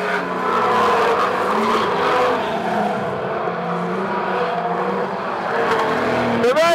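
Street stock race cars thunder around Cullen Bullen Raceway in a feature race, a loud continuous wall of engine roar from several cars, with a rising whine as one pulls close near the end.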